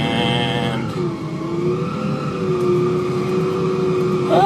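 A car engine runs on a dyno during an ECU Master setup and auto tune. It holds a steady, buzzy note with layered harmonics, and a thin tone climbs slightly as the revs ease up and down. No one speaks.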